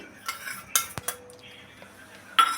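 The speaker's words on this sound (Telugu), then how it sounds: "బెల్లం అనేది ఉండలు లేకుండా మంచిగా కలుపుకోవాలండి" A spoon stirs jaggery into cooked rice for paramannam, giving scattered metallic clinks and scrapes against the pot, with a few sharper knocks and quiet stretches between them.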